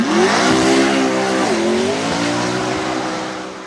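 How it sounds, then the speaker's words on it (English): A McLaren P1 GTR track supercar engine revving loud and close, its pitch holding high, dipping sharply with a shift, then climbing again before fading slightly. "McLaren P1 GTR."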